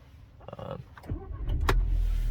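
A cold 2010 Audi A3 1.4 TFSI petrol engine cranks and fires up, settling into a steady low idle that grows louder and holds, after some brief mechanical clicks and whirring with no talk.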